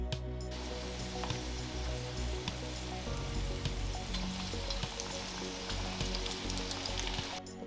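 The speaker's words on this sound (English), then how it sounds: "Time to fry the shrimp." Continuous sizzling and crackling of shrimp frying in hot oil at around 140 degrees Celsius, steady and close, with scattered pops and no talking.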